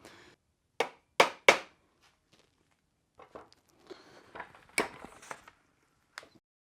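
Sharp metal taps and knocks from bending the locking tabs over the retaining nuts on a Porsche 356 transaxle gear cluster, three hard strikes up front, then scattered lighter clicks and scrapes, with two more knocks near the end.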